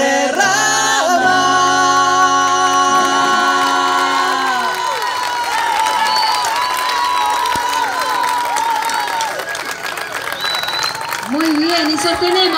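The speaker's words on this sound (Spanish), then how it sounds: "sostenemos el aplauso para los docentes de especialidades" Audience applause and cheering at a live show, loud and steady throughout, with sustained music and voices over the crowd.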